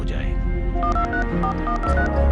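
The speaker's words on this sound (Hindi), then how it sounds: "सिर्फ एक फोन घुमाने से," A telephone being dialed: quick tonal beeps in a short run, clear and near, over music and a busy background.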